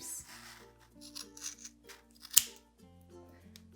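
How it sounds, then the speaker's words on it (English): Scissors snip through yarn loops of a pom-pom for a bunny tail, soft close cuts with one sharper snip in the middle, over a faint steady background tone and no speech. "So you're going to cut open the loops that you made on your fingers."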